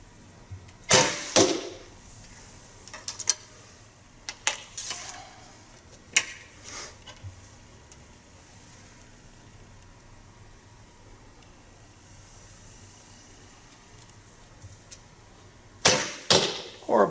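Arrows loosed from a traditional bow with screw-in points and feather fletching land in sharp, separate thwacks: a cluster of three early, a pair mid-way, then two more after a long quiet stretch, each a crisp snap over faint background hiss.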